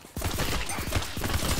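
Rapid, dense video-game gunfire in a fast burst, loud and continuous for over a second with no talking.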